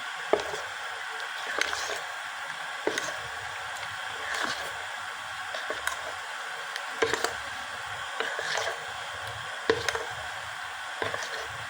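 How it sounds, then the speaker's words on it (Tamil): Repeated soft sloshing and squelching as a thick flour batter is stirred in water, with light knocks against the container at irregular intervals. "மாவை நம்ம தனியாக கரைச்சிக்கிட்டோம்"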